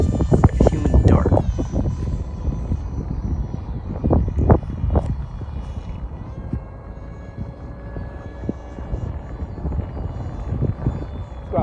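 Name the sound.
F-16 50mm EDF model jet flying, HobbyKing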